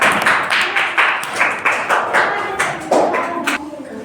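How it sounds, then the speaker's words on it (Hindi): A classroom of students claps together in a steady burst of applause for a classmate, rhythmic and fairly close, lasting throughout without speech. "चलिए तो पूजा कुमारी के लिए एक बार जोरदार तालियां लगाइए।"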